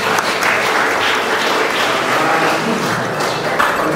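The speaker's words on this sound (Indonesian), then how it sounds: "saya tidak berlebihan kalau minta tepuk tangan untuk beliau" Audience at a school curriculum workshop applauding, dense sustained clapping from many hands filling the room, loud and steady throughout.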